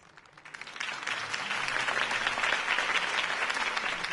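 Crowd applause in the video game Batman: The Telltale Series builds quickly from a faint start into a sustained, dense wash of clapping that holds steady to the end.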